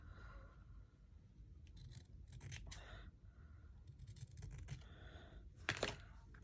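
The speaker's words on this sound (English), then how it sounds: "So let me cut this off here." Scissors snipping paper while trimming pieces for a handmade no-sew tab journal; a few quiet, close bursts of cutting and rustling over a low background hum.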